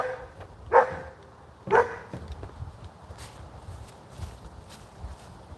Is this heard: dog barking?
yes